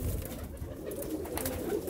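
Soft, low pigeon cooing close by, a few murmuring coos over a faint background hum.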